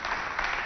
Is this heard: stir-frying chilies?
no